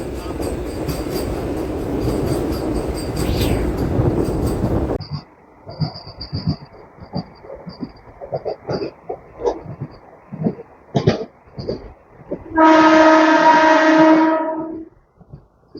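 MEMU passenger train on the Rajahmundry–Bhimavaram line in the Godavari district, a loud rumble giving way to clicking wheels on the rails as it turns, then a brief high horn-like blast near the end.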